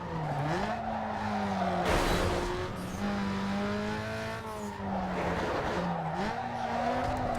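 A car engine in Need for Speed Underground 2 drones and shifts pitch while harsh scraping and skidding noises from the bumpers or sills flare up twice, loud and rough over the motor.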